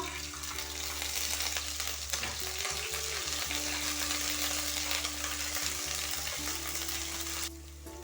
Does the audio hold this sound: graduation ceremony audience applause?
no